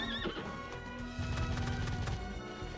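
A horse whinnies loudly at the start in the video game Bloodstained: Ritual of the Night, followed by clattering hooves and crashing game effects layered over a music track.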